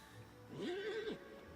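A single horse whinny in Disney Dreamlight Valley rises and falls over about half a second, moderately loud against a quiet background, with no talking.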